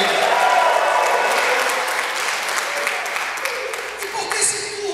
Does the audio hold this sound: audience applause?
yes